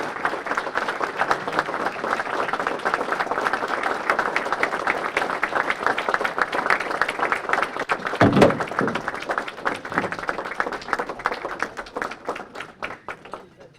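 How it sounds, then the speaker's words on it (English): A crowd at a mayor's breakfast celebrating a city's 40th anniversary gives a long round of applause as a couple is called to the podium, dense clapping with a few thumps and shuffles, tapering off near the end. "please rise with a great round of applause for Dick and June Wolf"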